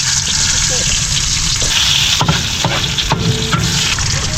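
Garlic and onion sizzle loudly and steadily in a hot pan with chili and pepper, the dense frying hiss broken by occasional stirring scrapes.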